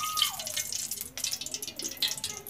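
Cooking oil, about two spoonfuls, pours into a kadhai over a lit gas stove, making a brief close trickle and a few light drip-like splashes, with no speech.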